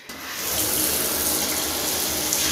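Tap water runs steadily over hair being rinsed of dye, a loud, close, continuous hiss and splatter that swells in at the start and carries on with no voices.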